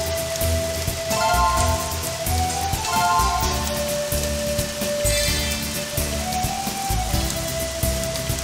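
Steady rain patters throughout a golf video game round, a dense, even hiss over a bed of tonal game music with a rising and falling melody.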